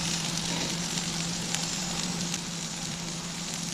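Steady, close sizzling fills the clip, a constant crackling hiss of chicken wings cooking on a hot campsite grill with a few brief pops.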